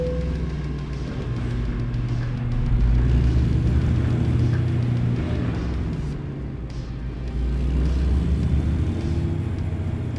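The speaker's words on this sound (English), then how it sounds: "Oh God, this truck sounds freaking phenomenal right now." Vintage cabover truck on a backroad run, with a low engine drone and harmonic rumble that swells and eases as it drives, loud and continuous with no voices.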